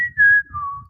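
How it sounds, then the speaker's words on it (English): Two short whistle notes, the first higher and the second a lower falling tone, clear and close with nothing else around them. "The whistle. It was a little bit weak. That was better."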